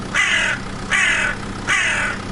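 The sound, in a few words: crow cawing loudly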